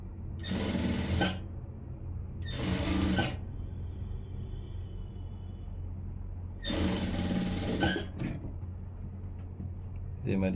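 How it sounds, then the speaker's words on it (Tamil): Sewing machine stitching a blouse side seam in several loud, close bursts of rapid whirring, with speech and quieter gaps between the runs. "இப்போ ஓரமாக தையல் போட்டுடலாம்."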